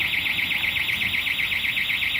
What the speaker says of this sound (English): that car alarm's doing me head in